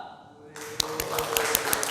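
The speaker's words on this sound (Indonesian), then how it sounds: "Tepuk tangan dong" Applause in a podcast studio, where a few people start clapping after a short quiet moment, a close, sharp patter of scattered hand claps that builds to a steady level, with a voice faintly under it.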